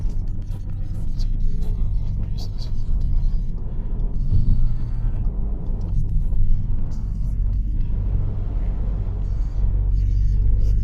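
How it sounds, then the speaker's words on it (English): A stage 2 tuned Audi A3 Sedan with a 2.0 TFSI engine drones and rumbles steadily under acceleration, loud and continuous, with a faint voice underneath. "Let me show you a quick acceleration so you can see the results."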